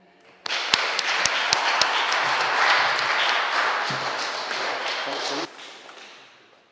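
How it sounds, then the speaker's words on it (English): A small audience claps for Rev. Dave Bookless after his talk on climate change and the churches, with a few sharp early claps swelling into steady applause for about five seconds before stopping abruptly. "another clap for Dave"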